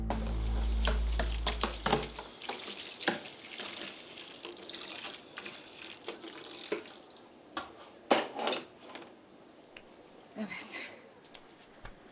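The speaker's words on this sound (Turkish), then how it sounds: "bulaşıkları bitirdim" Dishes are washed under running water, with clinks and clatter of plates and pans against a steady splashing background as people talk nearby.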